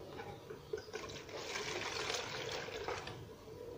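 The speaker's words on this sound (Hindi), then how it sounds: "अब इस कंटेनर के अंदर हमें पानी डालना है" Water pours steadily into a container, a soft continuous splashing and trickling heard close but quietly, building slightly before easing off.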